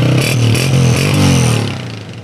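A used Honda 125cc motorcycle at a second-hand bike market in Karachi revs up close and loud, its engine note rising then easing off, with no talk over it.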